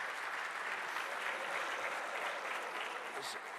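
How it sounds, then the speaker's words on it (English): An audience at the DICE 2010 conference claps continuously, a dense, even wash of applause lasting several seconds at a moderate distance. "please give a big round of applause to Stephen Wadsworth."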